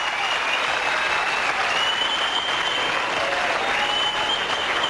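A pool hall crowd bursts into steady, dense applause after a winning bank shot, sustained clapping throughout with a faint murmur of voices underneath.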